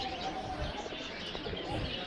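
Pigeons at Saver Nama Bazar, a twice-weekly livestock and bird market, give faint chirps and soft coos over a continuous crowded market background, with no clear speech.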